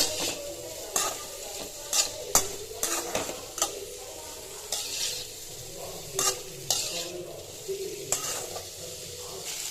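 Paneer roasting in a pan for a creamy, spicy paneer gravy, a steady sizzle broken by repeated scraping stirs of a spoon against the pan, close and clear with no talking.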